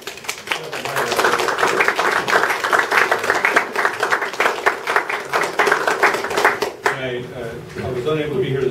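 Audience applause at a community council meeting on the Mecca floods, a steady burst of many hands clapping for about seven seconds before fading, with talk overlapping and continuing after it.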